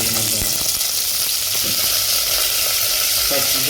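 Green chili, garlic and panch phoron sizzle loudly in hot oil in a home kitchen, cooking for katla fish dal, with a steady dense hiss throughout and a few soft stirring knocks, no talk.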